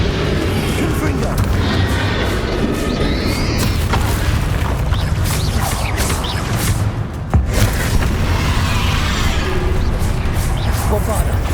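Repeated Bombarda and Confringo spell explosions in Hogwarts Legacy, a dense run of booming blasts layered over continuous game noise, loud and close throughout.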